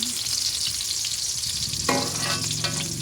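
Onions and garlic fry in a pan for a home-cooked vegetable dish, a close, loud steady sizzle that jumps brighter near the end as food is stirred or added.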